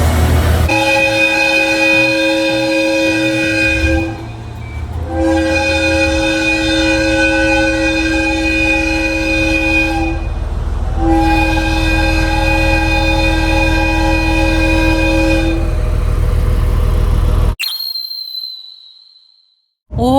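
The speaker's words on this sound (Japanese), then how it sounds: "大きな汽笛を三度鳴らして千畳敷を出発。" Three long, loud blasts of a Resort Shirakami tourist train horn at Senjojiki station on the Tsugaru coast of Aomori, Japan, each held several seconds with short gaps between, over a rumbling engine, then sudden quiet.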